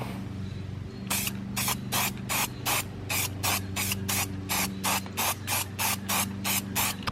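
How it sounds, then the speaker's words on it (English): Clear coat sprayed onto car interior pieces, a 300ZX DIY job: a run of about a dozen short, even hissing bursts in a steady rhythm, loud and close, over a low background hum. "Yeah, so let's get some clear coat on these interior pieces."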